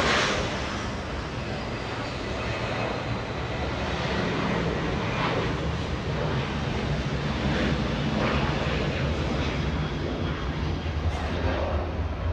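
A Southwest Airlines airliner moves on the runway at Los Angeles International Airport, its jet engines making a broad, steady roar that holds loud and unbroken throughout, with some wind rumble.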